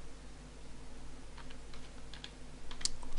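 Faint, sparse keystrokes tap on a computer keyboard while text is entered in a photo editor, a few light clicks over a steady background hiss.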